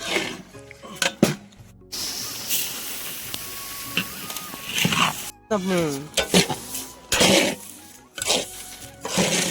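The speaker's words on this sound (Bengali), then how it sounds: "আমাদের গাজরটা সিদ্ধ হয়ে গিয়েছে, আমরা এখন চিনিগুলা ঢেলে দেব" Sugar poured into boiled grated carrots for Bengali carrot halwa, giving close sizzling, scraping and stirring in a pan with clattering bursts and steady hiss.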